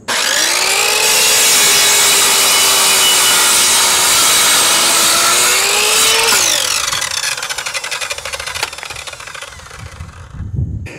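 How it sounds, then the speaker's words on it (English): A saw makes a 45 degree cut through wood as one loud, continuous whining, rasping stroke, slowing and roughening toward the end as the cut finishes, with no talking. "Okay, that's one 45 degree cut."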